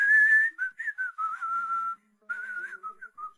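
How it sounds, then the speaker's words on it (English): A game character in Planet Coaster whistles the game's theme song, a clear, close, tuneful melody of sustained and short notes with brief pauses, heard alone. "He's whistling the theme song to Planet Coaster."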